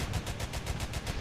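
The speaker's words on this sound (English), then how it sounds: "Browning 50 caliber machine guns" Quad Browning .50 caliber machine guns on an anti-air vehicle in the War Thunder video game, a rapid, steady burst of about ten evenly spaced heavy shots, loud and close.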